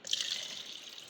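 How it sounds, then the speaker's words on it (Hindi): Water is poured into a container while an onion vinegar pickle is being made, giving a brief, steady hissing splash at moderate volume with no talk over it. "ये आपने पानी डाल दिया"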